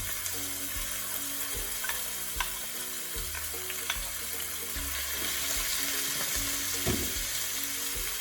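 Onions caramelizing in a frying pan, a soft steady sizzle with scattered spatula taps and stirring sounds, fairly quiet and close.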